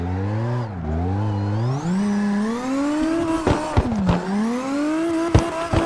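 A Toyota Corolla ZR engine revs hard while drifting, its pitch sweeping up and down in long rising pulls with no talk over it. Sharp bursts near the end could be tire noise.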